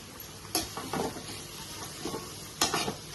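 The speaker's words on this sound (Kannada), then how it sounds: "ಈರುಳ್ಳಿ ಗೋಲ್ಡ್ ಕಲರ್ ಬರುವವರೆಗೆ ಬೇಕು" Onions fry quietly in oil for a chicken green gravy, a soft steady sizzle broken by a few sharp scrapes and clinks of a spoon stirring in the pan.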